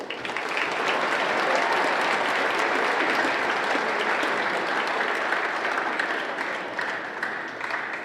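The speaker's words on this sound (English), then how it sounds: "let's give them all another big round of applause" A crowd applauds in a school gym at a high school wrestling meet, steady dense clapping that holds evenly for several seconds before easing slightly at the end.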